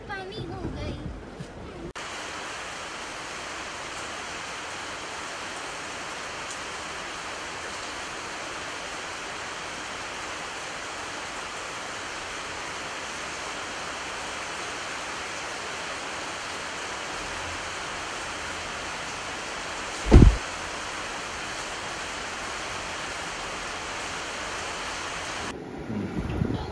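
Steady heavy rain pours down in a broad, unbroken wash of noise that stays loud and even throughout, with one sharp brief knock near the end and no voices.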